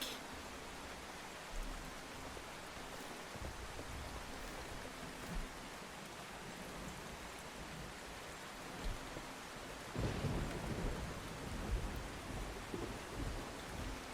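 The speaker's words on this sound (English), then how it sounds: "That was a lightning strike." Thunder from a lightning strike rumbles through steady heavy rain during a tornado storm chase, a louder low burst arriving partway through and rolling on over the constant downpour.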